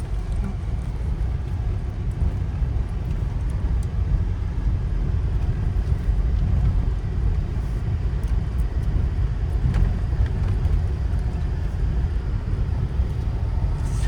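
A car's engine hums and rumbles steadily from inside the cabin as it gently gains speed and shifts into second gear, a constant low drone with no clear gear change standing out and no voices.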